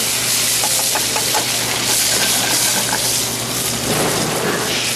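Black cod (sablefish) fillet sizzles steadily in a hot pan as it is turned over, a loud continuous hiss and crackle with faint scraping, close and alone without talk.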